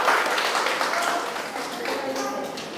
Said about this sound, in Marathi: ह्यांच्यासाठी टाळ्या वाजूया